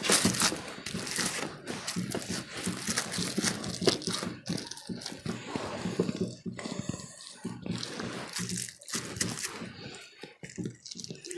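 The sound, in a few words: plastic bag being closed and handled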